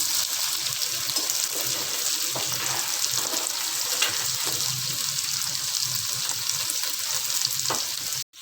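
Okra (bhindi) frying in a pan, a bright continuous sizzle with faint stirring scrapes, steady throughout and cutting off abruptly at the end, without any talking.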